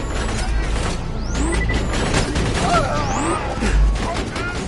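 Turret gunfire in Borderlands 2, a loud rapid fusillade of shots with mechanical clatter, whooshing projectiles and impacts layered over dense game noise throughout.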